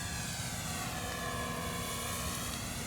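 An FMS Curtiss P-40B Warhawk Flying Tiger RC model airplane, 1400mm scale, drones steadily with its electric motor and propeller, gear and flaps down on a landing approach, heard at a constant moderate level with no talking.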